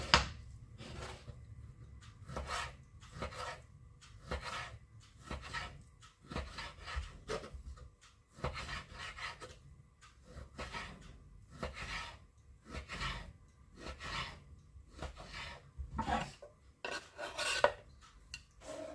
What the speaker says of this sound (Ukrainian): нарізати м'ясо